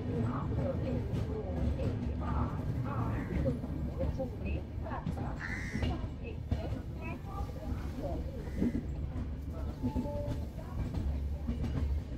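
Mumbai LTT–Secunderabad Duronto Express running at steady speed, a continuous rumble of rail travel with rhythmic wheel clatter throughout, heard from inside the train with people talking over it.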